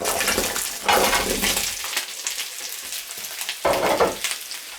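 Potatoes, onions and carrots sizzle loudly in a pan with toasted tomato paste, a dense continuous frying hiss broken by a few louder stirring bursts.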